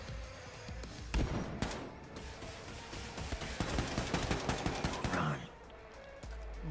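Gunfire in Wolfenstein II: The New Colossus, a burst of rapid shots followed by a run of heavy single-fire blasts in quick rhythm, loud and close, ending with a mechanical clunk.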